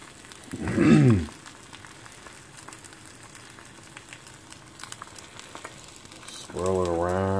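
An egg fries in a pan with a soft, continuous crackling sizzle, with a voice briefly at the start and again at the end.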